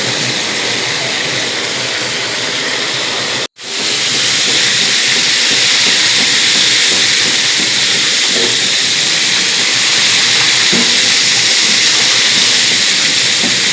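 Chicken drumsticks deep frying in oil in a kadai, giving a loud, dense, continuous hiss with a brief dropout near the start before the roar resumes at full strength.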